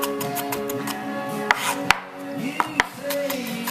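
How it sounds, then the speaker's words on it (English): Garlic being chopped very finely with a knife on a board, a handful of sharp separate knocks over a faint background, close by with no talk. "I like to chop up the garlic really, really, really small"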